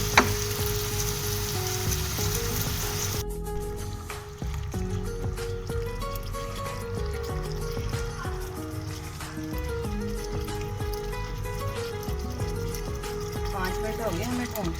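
Potatoes fry in watery tomato juice for jeera aloo, giving a soft, steady sizzle and bubbling that runs throughout, with a voice talking over it.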